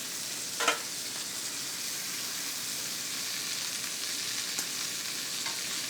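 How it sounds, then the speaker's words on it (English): Bone-in pork roast searing in a hot pan, a steady close hiss and crackle of frying fat with a couple of brief spatters and scrapes as the meat is moved. "Now we're just going to flip it and do the other side to make sure we get a nice even sear on both sides."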